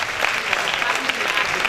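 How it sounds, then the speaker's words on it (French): Audience applause at a national patriotic slam championship in Togo, dense steady clapping from a sizeable crowd, continuous and fairly loud throughout. "Est-ce qu'on peut l'applaudir une fois encore,"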